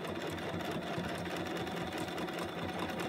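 A new home sewing machine stitching while quilting and embellishing fabric, a steady close, loud mechanical whir with rapid rhythmic needle clatter running continuously throughout, with no talking.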